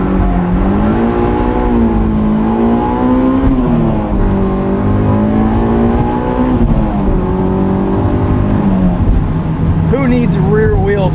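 A 2001 Honda S2000 on X-Ice winter tires drives in snow, its engine droning steadily with rising and falling revs throughout, while someone talks over it the whole time.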